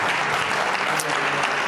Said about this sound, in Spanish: Den un aplauso al Eterno.